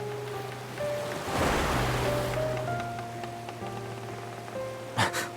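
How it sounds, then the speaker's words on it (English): Violent river currents surging and striking a boat in the video game Love and Deepspace, a rushing watery swell under a low musical drone, with a sharp splash at the end. "The increasingly violent currents strike our boat."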